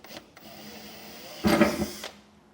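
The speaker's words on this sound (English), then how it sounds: "So we're not going to go very far with the pilot hole at first, making sure we stay centered" A drill bores a pilot hole into the bed of a 2024 GM truck for an under-bed gooseneck hitch, a short whining burst of under a second after a quiet stretch of faint shop hum.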